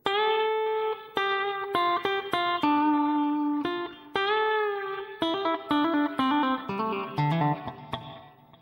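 The final solo of a song is played slowly on electric guitar: clean, distinct picked notes and short phrases with small gaps between them, ending in quick, busier runs. It is heard alone at a moderate level.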